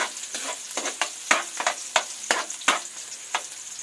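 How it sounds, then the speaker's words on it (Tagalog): Garlic fries in a pan for kinunot, a spatula stirring in quick repeated scrapes and taps over a steady close sizzle, with no voices. "Ilagay na natin mga igan ang bawang. Haluin din natin. Hintayin nating maluto ng konti."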